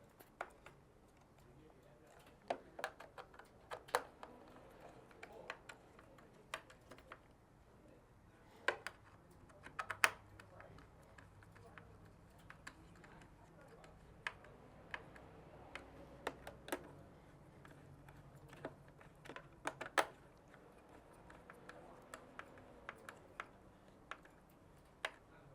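Screws are tightened down by hand into bumper foot pads during a GT bang bumper install: soft, irregular clicks and ticks spaced through a quiet room, with someone talking intermittently.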